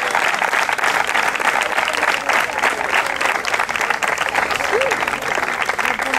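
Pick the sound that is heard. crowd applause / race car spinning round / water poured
crowd applause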